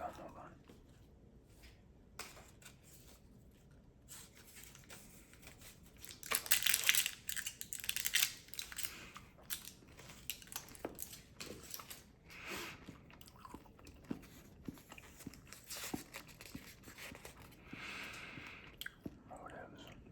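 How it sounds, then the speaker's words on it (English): A piece of gum is unwrapped with crinkling and crunching, then chewed close to the microphone, giving irregular wet bites and crackles that grow louder midway and carry on steadily, with a whispered voice at a quiet, intimate setting. "I'm gonna do a piece of gum, hold on."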